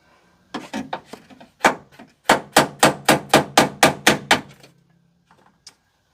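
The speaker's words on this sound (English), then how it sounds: "maybe driving down from the top here with this hammer" A few scattered knocks, then a rapid run of about ten sharp hammer blows on metal rivets in an Astro van door, close and loud, ending in quiet taps.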